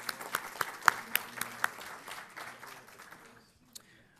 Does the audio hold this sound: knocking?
no